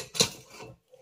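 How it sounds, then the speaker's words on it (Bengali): Lid of a pressure cooker coming off after cooking, a short metallic clank followed by a brief scraping rub of metal on metal, then quiet, close and alone. "ঢাকাটাকে খুলে নিচ্ছি"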